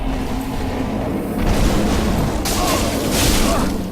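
An enemy's area-of-effect blast in Dark Souls 3 booms through the Keep Ruins, a loud, dense rumbling explosion that swells and rolls over a few seconds amid game noise.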